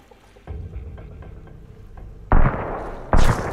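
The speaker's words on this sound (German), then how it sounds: "Wie er durch den Baum schießen will." Gunshots fired through a tree in the survival game Sunkenland: a low rumbling bed, then two loud, sharp bursts close by, each cracking out abruptly and ringing briefly.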